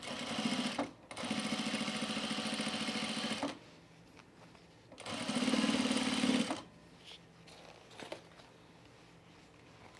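A sewing machine stitches chino pants in two close, steady whirring runs of a few seconds each, separated by quiet pauses with small handling noises.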